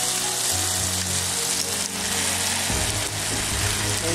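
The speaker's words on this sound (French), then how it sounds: "je vais couvrir la casserole et laisser mijoter pendant 5 bonnes minutes" Steady, dense sizzling and bubbling from a covered pan of minced-meat sauce fills the clip, with a low droning hum underneath that shifts partway through.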